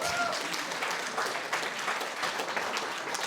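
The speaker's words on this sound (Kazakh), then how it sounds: "Шапалақ ұрайшы" Audience applause at a Kazakh wedding party, a dense, steady wash of many hands clapping that carries on for a few seconds in a busy hall, with some voices mixed in.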